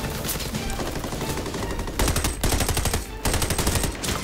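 Gunfire from a Chinese action war film about a sniper, rapid automatic bursts rattling loudly and almost continuously with brief gaps, dense and close, no speech over it.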